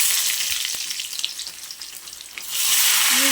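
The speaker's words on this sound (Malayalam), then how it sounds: "എണ്ണ ഒഴിച്ച് ചൂടാക്കി കടുക് പിടിച്ച്" Mustard seeds splutter and crackle in hot oil, tempering a Kerala pulissery. A close, steady sizzle carries scattered sharp pops, easing briefly before the frying surges louder again.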